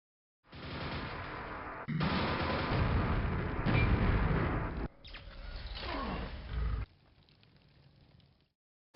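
In the Quake video game, a Vore fires its shots while nailgun fire answers, giving loud, dense roaring blasts and rattling bursts in long stretches separated by brief gaps, ending in quiet.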